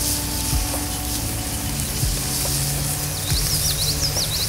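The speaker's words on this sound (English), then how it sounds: "Eggs over medium on the fire. And lamb sausage." Eggs and lamb sausage sizzle steadily in a pan over a campfire at a riverside kayak campsite. The frying hiss is loud and continuous, with birds chirping in the background.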